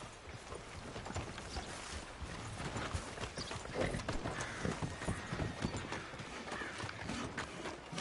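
Horse hooves clip-clopping on the ground in the video game Red Dead Redemption 2, a steady rhythmic trot close by with faint tack rattling and no talk.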